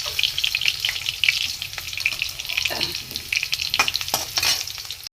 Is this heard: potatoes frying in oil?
yes